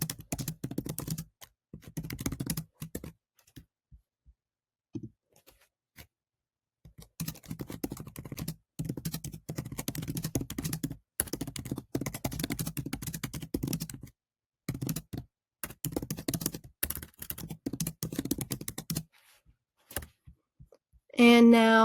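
Keys clatter on a computer keyboard in bursts of quick taps while a message is typed, with short pauses between runs and a brief tonal sound near the end.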